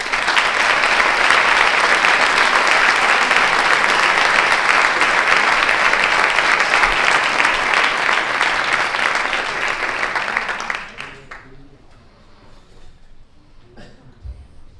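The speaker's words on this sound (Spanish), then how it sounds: "y un aplauso para ellos" Audience applause at a science conference, dense sustained clapping from a large crowd for about ten seconds before it stops abruptly, leaving faint room noise.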